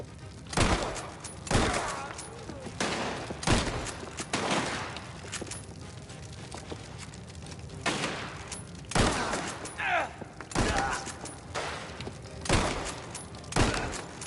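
Rifle gunfire in the video game Mafia: The Old Country, with sharp single shots spaced irregularly across the stretch, loud and punchy, with thuds and a brief tonal sweep between bursts.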